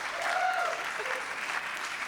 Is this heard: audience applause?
yes